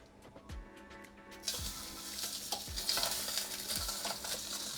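A fish bone sizzles in a lightly oiled pot over medium heat, a soft crackling fry that swells after a few quiet thuds and scrapes, steady and close with no voices.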